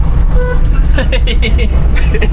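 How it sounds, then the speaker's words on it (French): Short car horn toots, a few separate beeps in quick succession, sounding near a vehicle on a road during a bull-running outing in Bayonne, with a low engine rumble and bits of talk mixed underneath. "Ça klaxonne pas? Si, mais je crois qu'il faut appuyer sur un là."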